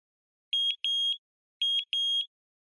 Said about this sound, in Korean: 삐삐 누구세요? 수업 시간에는 좀 끄자.